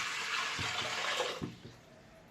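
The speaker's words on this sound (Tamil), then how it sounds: "ஒரு 6 சொம்பு தண்ணி ஊற்றியாச்சு." Water is poured into an idli steamer pot, a loud, close rushing splash that fades away, followed by a few faint knocks against the vessel.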